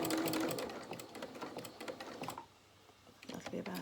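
Sewing machine stitching dungaree overalls comes in short, close rattling bursts with brief pauses between, under a person talking.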